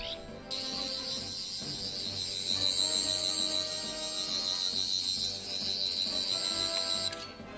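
Character Options 15th Doctor Sonic Screwdriver Deluxe toy emits its main effect, a continuous high warbling electronic whine that starts abruptly and holds for several seconds before cutting off with a click.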